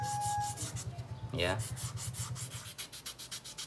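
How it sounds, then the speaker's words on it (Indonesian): Coarse sandpaper rubs back and forth by hand on a workpiece in quick, regular scratchy strokes that run close and fairly loud. A voice speaks briefly in the middle. "amplas kasar"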